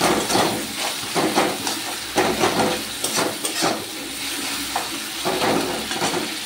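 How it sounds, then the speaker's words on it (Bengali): Water hits a spice paste frying in oil with jaggery, bursting into a loud, close sizzle and hiss with stirring scrapes against the pan, surging in waves throughout. "একটু জল দিয়ে দেবো।"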